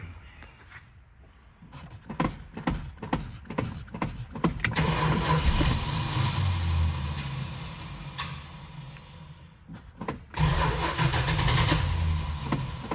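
A 1968 Dodge Super Bee V8 cranks with a series of rapid starter clicks and bursts, catches, and settles into a loud, steady rumbling idle with a sharp rev surge near the end.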